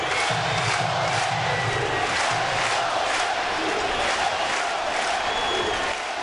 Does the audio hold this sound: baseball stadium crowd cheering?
yes